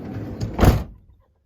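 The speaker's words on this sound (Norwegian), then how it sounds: "Så lukker vi igjen døra, så holder vi varmen." A camper van's door slides and shuts with a single firm whoosh and thud up close, followed by quiet.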